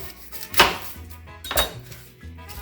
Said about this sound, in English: I start by cutting off the tips of the onion